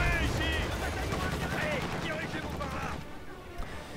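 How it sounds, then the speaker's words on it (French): Artillery barrage and gunfire in Company of Heroes 2, a rumbling spread of distant shots and blasts under a voice talking over the battle, fading toward the end. "il peut demander un barrage d'artillerie"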